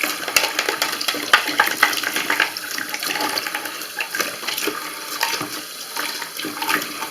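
Running water rinses the drain parts of a clogged bathroom sink, a steady close splashing flow from the tap with uneven spatters as the pieces are held under it.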